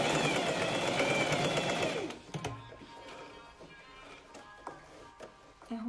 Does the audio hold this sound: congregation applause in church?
no